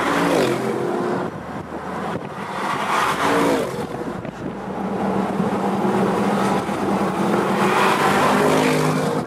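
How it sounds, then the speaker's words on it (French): An Audi RS6 Avant with a 600-horsepower twin-turbo V8 accelerates hard, its engine roaring loudly and continuously while rising in pitch, dipping briefly at a gear change, then climbing again. "On va se refaire une accélération."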